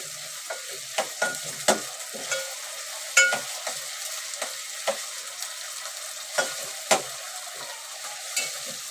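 Tomato frying with browned onion in a pan for a chicken curry, a steady sizzle broken by repeated sharp scrapes and taps of a spoon stirring, close and without talk.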